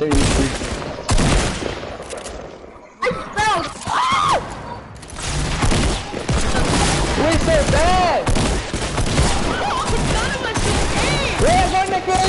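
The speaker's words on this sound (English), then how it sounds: "This guy's shooting from the back when I'm shooting" Rapid gunfire bursts from a video game shooter crackle nearly nonstop, with an excited voice talking loudly over the shots throughout.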